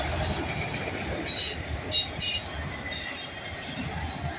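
A freight train with auto racks rolls by with rumbling wheels and brief high-pitched squeals from the rails, moderately distant and steady throughout.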